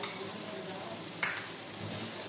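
Green chillies frying in a tomato masala, a faint, steady sizzle with one brief scrape or clatter of stirring partway through.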